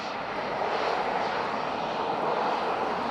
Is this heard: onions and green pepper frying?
no